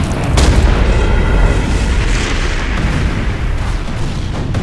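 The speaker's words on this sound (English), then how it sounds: "triggering a supernova explosion" A supernova sound effect plays as a huge, loud, deep boom that rumbles on for several seconds, broad and roaring, with no voices.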